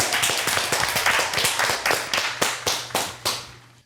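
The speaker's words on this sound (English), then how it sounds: "Let me get a round of applause." A small round of clapping, roughly a dozen distinct sharp claps in a quick uneven rhythm, close and loud, thinning out and stopping near the end.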